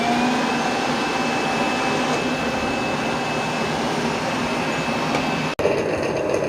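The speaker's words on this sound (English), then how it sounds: "they're both going to the dock now and they're going to empty out" A Dreame L20 Ultra and an iRobot Roomba J9+ robot vacuum sit at their docks while the stations empty dirt, a loud steady whirring suction roar that cuts off abruptly near the end before a brief restart.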